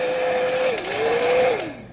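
A hair dryer blows hot air onto the adhesive film of a Logitech Harmony remote, giving a close, steady whine whose pitch dips and rises as the airflow shifts, then fades at the end.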